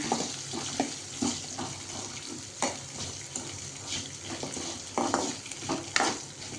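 Ingredients sautéing in a pan for Chettinad country chicken gravy, a steady close sizzle with scraping and stirring clatter, soft knocks and a brief running-water splash, no voices.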